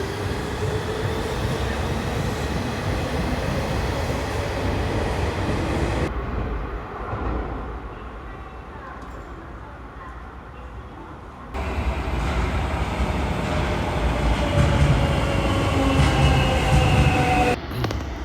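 A train runs through Fukuoka, Japan, with a continuous rolling rumble and rattle heard from on board, dropping to a quieter, duller stretch midway before the louder running noise returns.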